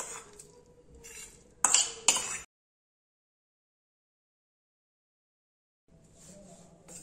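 A spoon scrapes and clinks in a bowl of bathua raita in a few short bursts, with two sharper knocks against the rim, then silence before faint stirring resumes.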